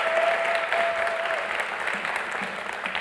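An audience gives a steady round of applause, a dense crowd of clapping that holds for a few seconds and fades slightly toward the end.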